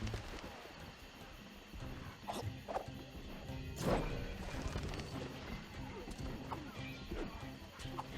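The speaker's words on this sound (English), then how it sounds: "Just the shattering sounds in the background." Shattering and crashing bursts from the Sly Cooper: Thieves in Time video game sit in the background, with a few sharp breaks standing out over continuous game ambience and horse-like whinnies and hoofbeats.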